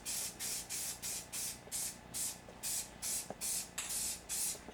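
A spray paint can sprays orange paint in about a dozen short, evenly spaced hissing bursts, close and fairly quiet, with faint clicks between them.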